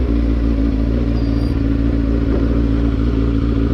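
A tuned-up motorcycle engine runs steadily at idle after an idle adjustment and new spark plugs, a loud, continuous low rumble close by with no one talking.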